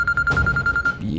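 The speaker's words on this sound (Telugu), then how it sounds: "అమ్మ నేను ఇంట్లో కనిపించలేదని ఫోన్ చేస్తున్నట్టుంది." A phone ringing with an incoming call, a bright rapid electronic ring pulsing in quick repeated bursts, close and loud, with a brief thud at the end.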